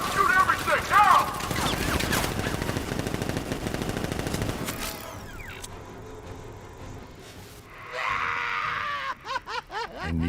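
Bursts of gunfire and machine-gun fusillades from the Batman Arkham Knight video game, loud and dense through the first half, then sparser shots with game effects and voices, closing with a few sharp separate bangs.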